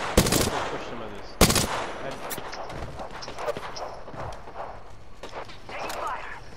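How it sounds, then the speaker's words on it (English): Bursts of video game gunfire crack out in two loud sharp volleys early on, then lighter scattered shots and effects follow, with players talking over the action. "I am taking fire, friends."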